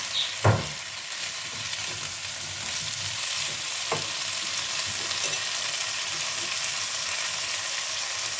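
Green peppers fry in a pan with a steady, close hiss of sizzling oil. A sharp clatter near the start and a light knock a few seconds later stand out against the sizzle.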